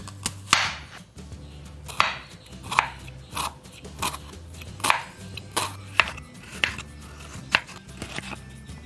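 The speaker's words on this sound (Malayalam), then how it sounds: "ആദ്യം നമുക്ക് ഒരു വലിയ സവാള ചെറുതായി അരിഞ്ഞെടുക്കാം." A large onion being finely chopped with a knife on a board, a series of sharp, evenly spaced knife thuds roughly every half second, close and distinct with a faint background hum.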